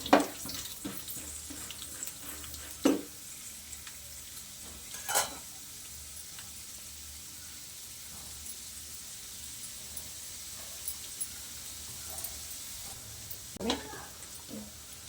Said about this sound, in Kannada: ಆಯಿಲು ಕಾದಿದೆ, ಕಡಲೆಬೇಳೆ ಸೇರಿಸ್ಕೊತಾ ಇದ್ದೀನಿ. ಇದು ಸ್ವಲ್ಪ ಫ್ರೈ ಆಗಬೇಕು.